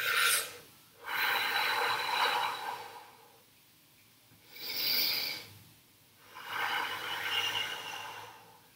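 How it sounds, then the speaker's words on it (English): Slow, deep breaths during a Pilates plank, with long rushing inhales and exhales alternating with quiet pauses, close and clear with no talk. "So a few more deep breaths here."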